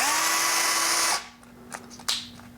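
Drill-powered chainsaw attachment bought from Wish whines loudly at high speed for about a second, then cuts off, leaving faint knocks and rattles.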